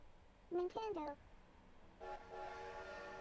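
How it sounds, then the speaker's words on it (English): A short two-tone train whistle from the opening of the video game Animal Crossing toots twice, followed by a sustained hum of the train, heard clearly without talk. "You get to hear the train sound."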